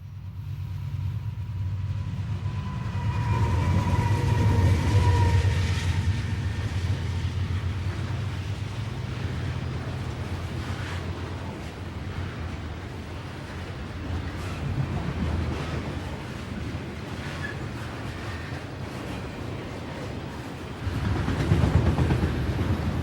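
CSX train R217 heading westbound out of a tunnel on the Magnolia Cut Off in 1992, a horn blast followed by a rumbling diesel roar that swells and fades, with wind noise.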